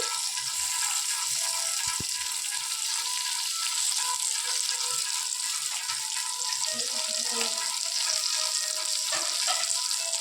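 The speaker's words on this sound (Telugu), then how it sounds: "ఒకసారి చూస్తూ కలయపెడుతూ ఉంటే అవి మెత్తపడుతున్నాయా ఫ్రై అవుతున్నాయా అనేది మనకు తెలుస్తూ వస్తుంది" Drumstick (moringa) pieces frying in a pan for a simple home-cooked fry, a steady loud sizzle throughout with occasional scraping as they are stirred.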